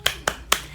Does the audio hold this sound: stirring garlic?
no